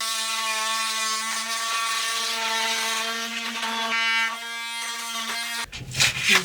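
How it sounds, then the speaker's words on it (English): Oscillating multi-tool cutting trim on a log cabin: a loud, steady, close buzzing drone that runs for several seconds, then cuts off into a brief clatter at the end. "Forget using a razor blade to cut it. Use a multi-tool."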